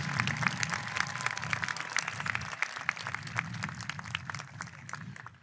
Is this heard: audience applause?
yes